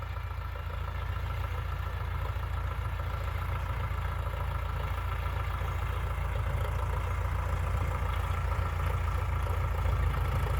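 A Sonalika DI-750 III RX tractor engine runs slowly at low revs, a steady, close, deep rumble holding constant throughout with no voices.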